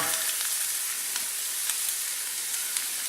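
Onions cooking in a couple tablespoons of olive oil for a creamy fish casserole, giving a constant bright, close sizzle with faint occasional crackles and no voices.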